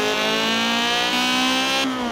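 Simulated engine of a K20-powered car in the racing game Forza Horizon 4, a continuous loud buzzy drone holding steady revs, with pitch dropping slightly between gear changes and no voices.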